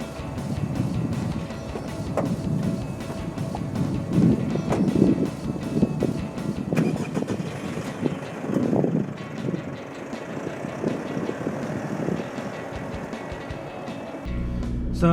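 A 2019 Mitsubishi Triton VRX 4WD pickup with a 2.4L engine and 6-speed automatic drives along, giving a steady low engine and road rumble with wind noise throughout.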